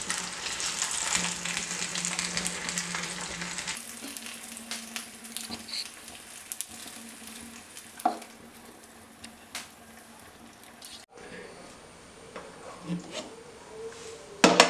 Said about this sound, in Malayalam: അതിനുശേഷം നമ്മൾ പൊതിഞ്ഞു വെച്ചിരിക്കുന്ന ചെമ്മീൻ അവിടേക്ക് വെച്ചു കൊടുക്കാം.